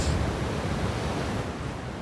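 Ocean waves and surf rolling in at La Hague on the Normandy coast, a steady, loud roar of breaking water with some wind, without talk.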